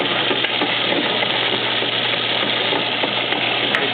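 LiftMaster 355 LM garage door opener runs with a steady, close, even motor hum and faint mechanical rattling throughout, no voices.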